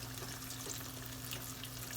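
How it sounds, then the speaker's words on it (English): Beer-battered oyster mushrooms deep fry in hot oil, giving a steady, dense hiss and crackle that stays even throughout with no voices. "I'm frying up these bigger ones"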